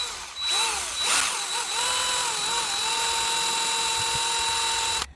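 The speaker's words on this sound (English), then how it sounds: "attach it to the drill, making sure it's tight, and then what we need to do is try and drill the centre out" A power drill bores into the centre of a snapped bolt stud on a Ford Transit Connect 1.8 TDCi engine, a steady loud whine with a rising pitch sweep near the start, then a sustained even drone throughout.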